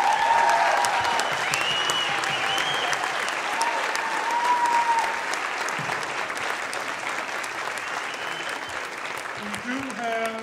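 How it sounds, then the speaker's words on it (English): A large audience at a political tour event gives a sustained round of applause for Reverend Al Sharpton and Lee Saunders. The clapping is loud and continuous and eases slightly toward the end, with faint crowd noise mixed in. "please give Reverend Sharpton and Mr. Saunders another round of applause."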